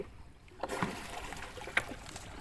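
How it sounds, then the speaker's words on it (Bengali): A small wooden boat being rowed on calm floodwater in a rural char area, with quiet paddle splashes and water trickling against the hull, soft and close. "এই যে আমি একটু নৌকা চালাইতেছি দেখতে পাচ্ছেন"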